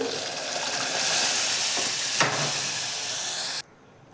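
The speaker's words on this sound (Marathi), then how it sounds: "लसूण आणि हिरवी मिरचीची पेस्ट तेलामध्ये घेऊयात परतून" Garlic and green chili paste frying in hot oil in a Maharashtrian kitchen: a steady, close, bright sizzle with a brief stir or scrape midway, cutting off abruptly near the end.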